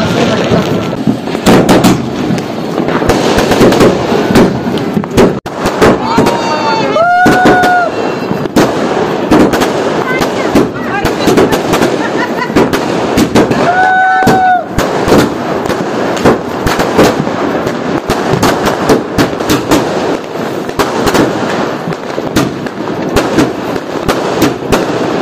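A Diwali 60-shot firework cake fires a rapid, loud series of bangs and crackles that go on for many seconds, with whistling launches rising through the blasts and faint voices in the background.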